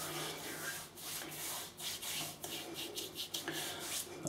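Faint soft rubbing as lavender-and-menthol shaving balm is worked into beard whiskers by hand, a close, quiet, continuous friction texture with small irregular strokes.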